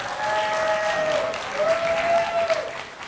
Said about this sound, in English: Give them both a big round of applause there